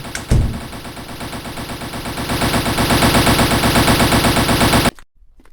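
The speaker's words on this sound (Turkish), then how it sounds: "Kurşuna dizdi lan beni." Sustained machine gun fire rattles in a loud, rapid, unbroken stream of shots for nearly five seconds, then cuts off abruptly.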